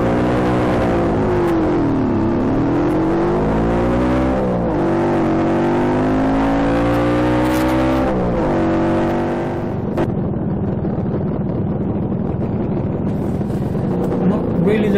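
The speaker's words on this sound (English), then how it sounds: "the speed some of the cars are coming past" Rally cars on the fast A4 road roar past with rising and falling engine pitch, loud and near, followed by a fading rumble with voices talking.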